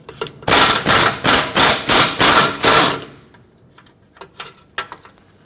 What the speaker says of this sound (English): take a punch and a hammer, punch it out the rest of the way